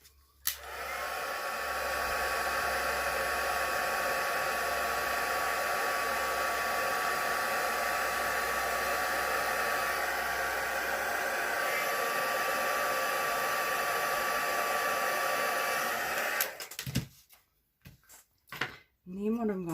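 Heat gun running continuously for heat embossing a stamped card, a loud steady blowing whir close by for about sixteen seconds before switching off, with a voice speaking afterward.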